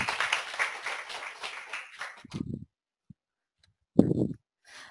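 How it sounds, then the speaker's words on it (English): Audience applause for a speaker at a university changemakers event in Minneapolis, clapping that tapers off after about two seconds, followed by a couple of short low bursts, likely brief voices or handling noise, and near silence. "So let's have another round of applause for Lisa."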